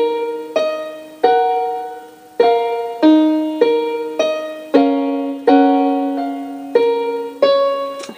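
Piano plays the intro slowly, a steady sequence of about a dozen struck chords and notes, each decaying before the next, clear and alone with no talking.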